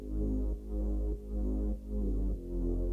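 A big sub bass synth patch built in Serum, with distortion and compression added, throbs in deep, sustained notes that pulse roughly every half second, loud and alone with no voices.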